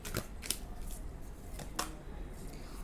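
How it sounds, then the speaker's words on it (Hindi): Tarot cards being shuffled by hand, a few quick riffling bursts of papery flutter with short gaps between them, fairly close but soft, with no talking. "एक और बार शफल कर लेते हैं"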